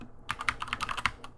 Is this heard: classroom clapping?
no